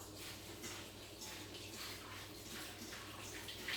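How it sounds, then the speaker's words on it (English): Salad greens being rinsed in a colander under running tap water, a steady, close, continuous splashing hiss that holds without a break and with no talk. "Put them in a colander. And this is going to be enough for one person, but you want to increase the number of greens if you're going to have 2 people. Rinse them off."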